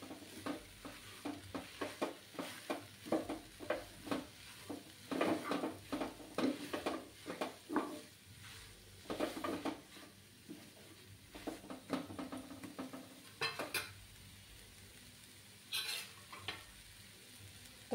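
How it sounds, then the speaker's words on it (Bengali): A spoon repeatedly scrapes and stirs a palm sandesh mixture with added milk powder in a pan, in irregular clustered strokes over a soft sizzle, close and moderately loud, with no talking. "দু চামচের মতো আমি পাউডার মিল্ক অ্যাড করে দিচ্ছি। দিয়ে নাড়াচাড়া করব।"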